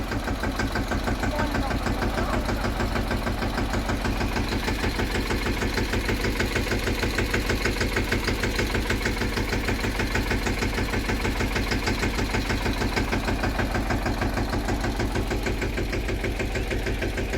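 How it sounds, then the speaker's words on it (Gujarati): A tractor's diesel engine idles steadily with a rapid, even chugging throb that stays constant throughout, close by and fairly loud. "કરી દીધું છે ટ્રેક્ટર ચાલુ"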